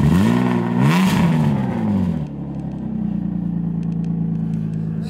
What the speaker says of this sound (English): That's why we're putting car inside here,